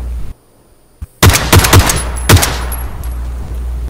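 Gunfire in the battle-royale game PUBG near a farm or ranch: a few sharp, loud shots land in a quick cluster after a brief silence, then trail into a steady game-ambience hum.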